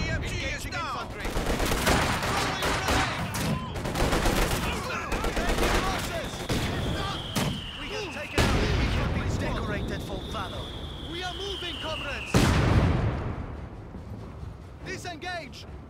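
Dense gunfire and artillery from the World War II strategy game Company of Heroes 2, with rapid machine-gun bursts, heavy booming impacts and a whistling incoming shell, loud and continuous under shouted soldier voices.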